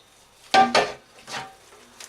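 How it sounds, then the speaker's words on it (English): Lamb gravy tipped from a pan through a sieve, a few short clattering metallic knocks and a brief pour of liquid, close and fairly quiet in a still kitchen. "So what I do is I just tip it through a sieve, making sure I get all that goodness in there."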